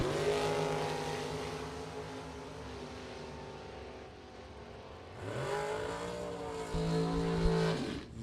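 Drag racing cars at a bracket nationals event roar down the strip, a sustained loud engine drone that eases off mid-way, then swells again as another pass accelerates hard and close, with no talk.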